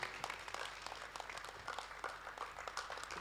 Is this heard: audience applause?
yes